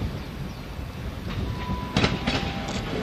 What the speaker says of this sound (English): Here comes the, I think it should be the Birmingham train, formed 2 350s.